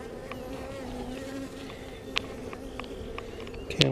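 Honey bees buzz steadily close by during a hive inspection, a continuous droning hum with a few sharper, louder passes near the end.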